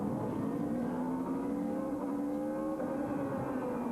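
Supertouring race cars from the 2000 European season, including BMWs, drone steadily around a tight, twisty circuit, a continuous engine whine with shifting pitch heard at moderate distance.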